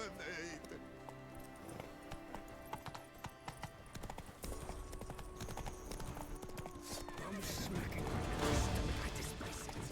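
Roach the horse's hooves clip-clop along a path in The Witcher 3, a steady close rhythm of hoof strikes running beneath a voice, with music and game effects rising toward the end.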